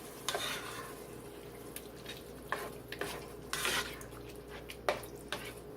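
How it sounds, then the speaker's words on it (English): Tomato sauce stirred into a pot of hamburger vegetable soup, with a spoon scraping and clinking against the pot in irregular strokes over a soft bubbling simmer, close by. "Then a 15 ounce can of tomato sauce. Stir that in."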